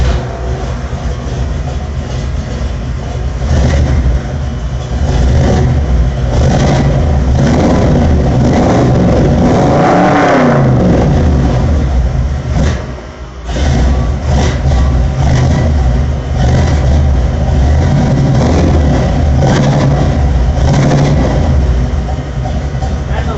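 Cold old square body Ford truck engine revved hard toward redline, a loud sustained roar with a brief dip and swell midway, then a sharp drop before climbing back up.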